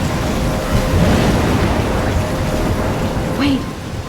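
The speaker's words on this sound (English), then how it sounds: "I'm trapped in a storm?" Steady rain and rumbling thunder from a storm in the Life Is Strange video game, a dense continuous wash with a brief bright swell near the end.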